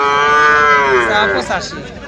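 A Friesian bull calf at a cattle market gives one long, loud, close moo that wavers and trails off over about two seconds, with no voices over it.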